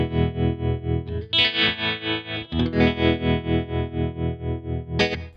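An electric guitar played through an amp simulator plugin in Logic Pro gives a lush ambient tone, with sustained chords swelling in a steady wavering pulse of chorus and distortion and a bright strum near the end.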